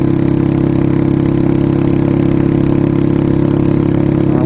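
A motorcycle engine idles close and loud, a steady low rumble with an even, fast throb that holds unchanged throughout.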